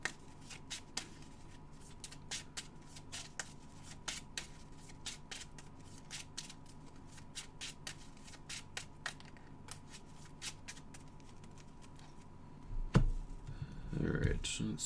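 Playing cards being shuffled during a tabletop card game tournament, a long run of quick riffling clicks and taps, close and soft, ending with louder handling noise and a voice.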